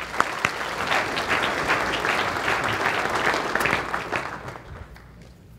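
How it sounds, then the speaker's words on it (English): An audience at a 2015 land investment expo applauds steadily to welcome a speaker onto the stage, a dense wash of clapping that holds for several seconds and then thins out. "be careful about applauding for your speaker before you've heard him"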